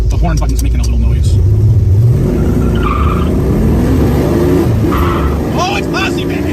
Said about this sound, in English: You gotta love these 351s backing up on a Hurst 4-speed shifter.